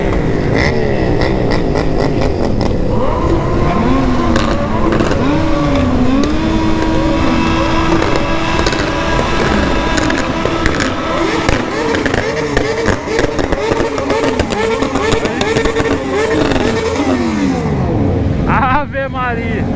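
Several remapped sport motorcycles rev hard at night, engines roaring, rising and falling in overlapping sweeps, loud and close, with people's voices mixed in among the din.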